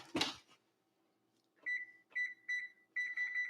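A kitchen oven timer being set while baking salmon: a short opening clatter, then a series of clear electronic beeps in short bursts, close and loud with silence between.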